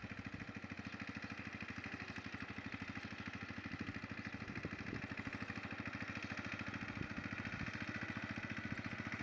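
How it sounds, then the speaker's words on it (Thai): A Kubota 14-horsepower walking tractor engine runs steadily and close by with a constant rhythmic chug, loud throughout with no pauses, out in rice fields. "มาถ่ายวิดีโอ รถไถคูปตาสิบสี่แรงครับ"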